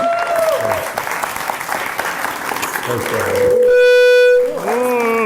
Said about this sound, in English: one more loud round of applause for Nate, right?